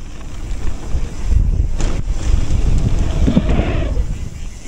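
Gusty wind buffeting a microphone fitted with a furry windscreen at an active open-pit coal mine, a steady loud rumbling roar with swelling gusts, close and continuous.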